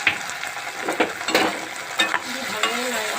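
Chicken pakora is stirred with tomato ketchup in a pan, a close, steady sizzle with a run of spatula scrapes and clinks against the metal.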